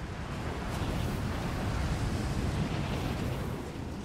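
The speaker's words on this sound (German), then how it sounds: "Dieser Wind ist Wahnsinn." Strong, roaring wind in the Rise of the Tomb Raider video game, a steady broadband gusting rush that holds at constant loudness for the whole few seconds, with no voices over it.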